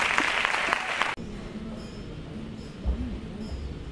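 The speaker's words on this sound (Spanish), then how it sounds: "Un fuerte aplauso para María José." Brief burst of audience applause at a secondary-school graduation ceremony, lasting about a second before cutting off sharply into quiet room noise.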